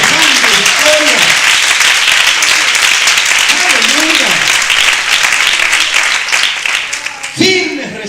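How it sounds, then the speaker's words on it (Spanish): Loud, sustained applause from a large crowd at a Spanish-language church sermon, with a preacher shouting over it in bursts and the clapping swelling again near the end. "un aplauso fuerte al que te da semejante victoria"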